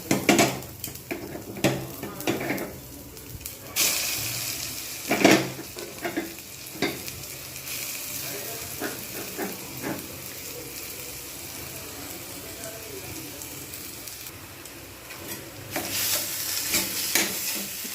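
Spiced potato filling cooks in a small amount of hot oil for aloo puri, sizzling steadily under repeated clinks and scrapes of a spoon against the pan, with occasional louder stirring bursts and no voices.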